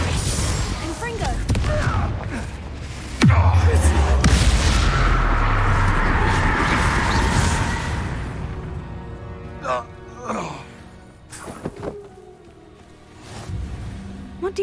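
In the Hogwarts video game, Confringo blasting curse explosions set off a loud boom and rumbling blast, followed by scattered smaller cracks and bursts that fade into quieter ambience, with a voice speaking intermittently.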